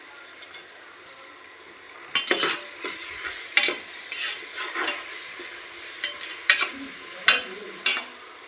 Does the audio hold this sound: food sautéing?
yes